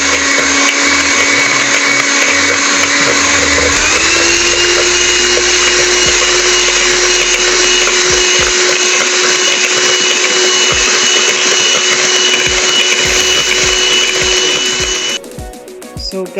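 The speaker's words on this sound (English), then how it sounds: "So guys, now we are finished mixing our egg white." Electric hand mixer whipping egg whites to stiff peaks for Kaiserschmarrn, a loud steady motor whine running throughout, shifting pitch slightly partway and cutting off near the end.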